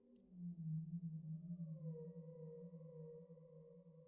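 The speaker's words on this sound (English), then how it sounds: "Are we listening to fucking whale sounds right now?" Whale song plays faintly in the background, long moaning tones that slowly bend in pitch and hold steady for several seconds, with no voices over it.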